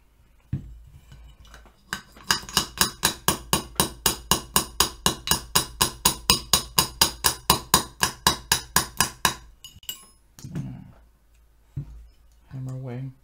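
Hammer blows during a 300 Blackout AR15 pistol build: about two dozen sharp, evenly spaced strikes in a steady rhythm, close and loud, followed by a few quieter knocks and handling noises.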